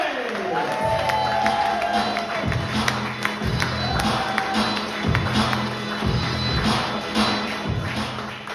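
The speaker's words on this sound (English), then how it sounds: "Standing applause now, please welcome Ricky Robbie." A large crowd claps and cheers steadily as a comedy act is introduced, with thumps and shuffling mixed into the applause, and a voice speaks faintly beneath it.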